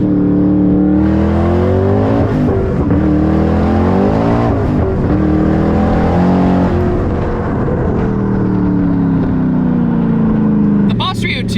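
A 900 hp Ford Mustang Boss 302 accelerates hard through the gears, its loud engine note climbing in pitch, dropping at shifts and climbing again, with someone speaking excitedly over the roar.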